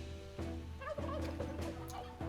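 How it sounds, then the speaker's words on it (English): Turkeys gobble in the online role-playing game Shroud of the Avatar, with a few rapid, warbling gobbles sounding close and clear against a low background hum. "Here comes the turkeys."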